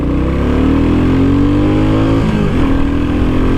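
A car accelerates hard in first gear on an empty road, engine pitch climbing steadily as it revs up, then a brief dip and recovery near the end, loud and close with no talking.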